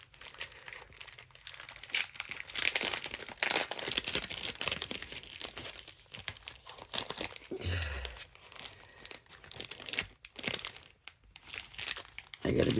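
Plastic bag holding ribbon being handled and rummaged, with loud, uneven crinkling and rustling bursts coming in irregular waves, close to the listener.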